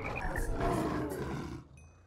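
A lion in RLCraft, the Minecraft game, lets out a single close, loud roar that swells and then fades off, heard on its own.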